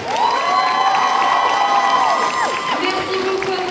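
A public crowd at a Sunday cosplay contest at a fantasy and Japan culture fair cheers and whoops loudly, with high children's shouts and some clapping; sustained voices rise together and shift pitch near the end.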